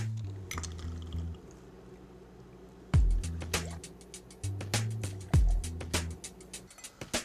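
Freshly squeezed pink grapefruit juice is poured into a beer cocktail, with soft liquid trickles, squishy splashes and sharp glass clinks in several close bursts, and no voices.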